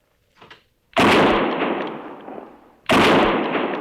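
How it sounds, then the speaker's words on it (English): Two loud rifle shots ring out about two seconds apart, each a sharp crack followed by a long rolling echo that fades away; a faint softer knock comes just before the first. "Yeah, beautiful shot, Willa"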